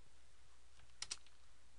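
Two quick keystrokes on a computer keyboard, close together and soft against a quiet room, typed while writing Java code.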